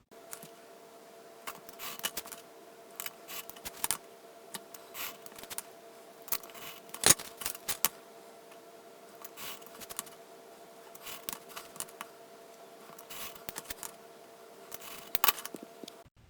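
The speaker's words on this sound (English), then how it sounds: "I'm going to cut this printout which has bleed using these cutting marks over here" Scissors cut through a paper printout in a quiet room, a series of short, crisp snips and rustles arriving in uneven bursts, close and fairly faint, with no talking.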